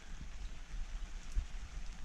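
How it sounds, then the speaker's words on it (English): Rain drums steadily on a camping tent in Sequoia National Park, a constant soft wash of droplets with occasional louder single hits. "It's been raining for about 30 minutes."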